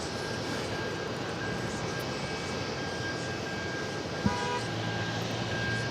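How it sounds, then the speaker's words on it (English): A Norse Boeing 787-9 Dreamliner takes off at JFK, its engines giving a steady, distant roar that holds for several seconds with one brief thump partway through. "Next takeoff is Norse, flight 504, heading to Athens, Greece on a"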